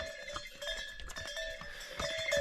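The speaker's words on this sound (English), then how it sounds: "The bells are for people to know that they are coming." Bells jingle and clank repeatedly in an uneven rhythm as horses pass close by on a Himalayan trail to Tungnath, with occasional hoof clatter; no talking.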